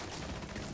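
Dense burst of rapid gunfire in a Rainbow Six Siege match, loud and continuous through the short moment, with no talk over it.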